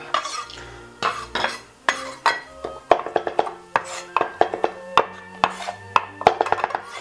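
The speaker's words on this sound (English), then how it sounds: "The rosemary is chopped." A sharp knife chopping rosemary on a cutting board, with a rapid run of crisp, close taps and clatters in uneven rhythm, heard alone without talk.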